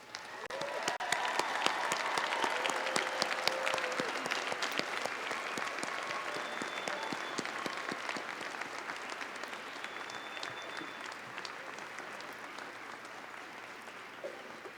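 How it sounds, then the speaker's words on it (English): Graduates stand for a long round of applause at the Wayne State University winter commencement ceremony, with many hands clapping in a large hall and the sound staying full before easing slightly toward the end. "Will our graduates please stand for a round of applause?"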